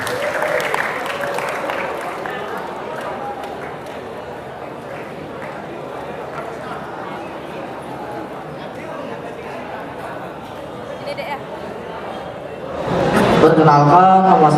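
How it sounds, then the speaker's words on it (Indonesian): A seminar audience gives a long round of dense, even applause for a classmate, then the clapping stops and a voice starts speaking over a microphone. "Tepuk tangan ya buat teman kalian"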